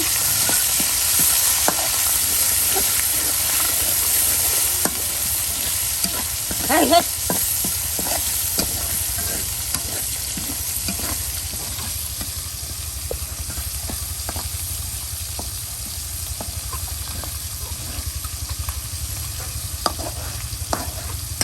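Prawns and onions fry in a pan with a steady, loud sizzle, and a spatula stirs and scrapes now and then throughout.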